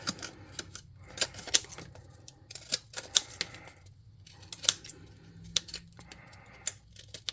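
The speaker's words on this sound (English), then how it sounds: "I'm going to get my scissors, and I'm going to cut" Scissors snip through craft material for a model goblin airship for a tabletop game, a close, irregular series of sharp cuts with short pauses and quiet handling noise between them.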